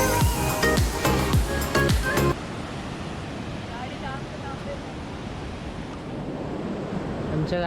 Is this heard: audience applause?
no